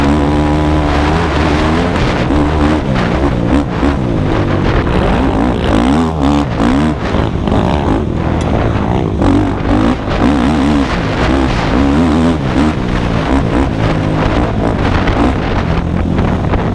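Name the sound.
quad ATV riding at open throttle over bumpy ground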